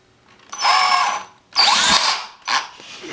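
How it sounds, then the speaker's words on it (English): A power drill whines through three separate bursts as it bores holes into a homemade popsicle-stick motor mount, each run close and loud with short quiet pauses between. "you want to find somewhere you can drill over and drill into the holes that you previously traced"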